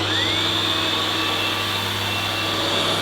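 A Henry Quick corded vacuum cleaner runs steadily on its low power setting, a constant close motor whine with an airy rush that holds level throughout, with no talking over it.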